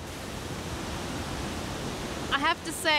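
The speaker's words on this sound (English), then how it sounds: "I don't mind a bit of rain, but this constant drizzle is a bit miserable." Steady drizzle hisses near a waterfall on an autumn day, a constant broadband wash of rain and falling water, with a few brief voice-like sounds near the end.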